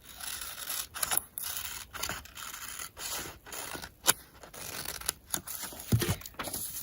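Scissors cutting a fabric template for a face mask cover, a series of close crunchy snips and paper-like rustles repeating every half second or so, fairly quiet with no talk.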